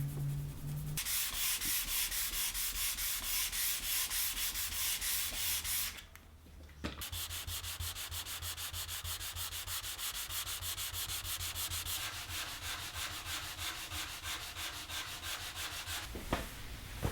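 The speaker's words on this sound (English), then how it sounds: "Final sanding complete." Steady, continuous abrasive rubbing of sandpaper on a wooden dining table, loud and close, with a brief pause partway through before the scratchy strokes resume.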